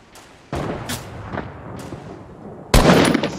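Gunfire in an online shooter game, with a few sharp broadband bursts spread across the moment and a heavier, louder blast near the end, close and prominent over faint background noise.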